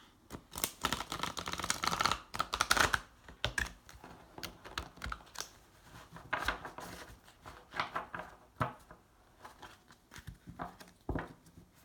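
A worn tarot deck is handled and shuffled up close, with quiet irregular flicks, taps and riffles of cards coming in scattered bursts.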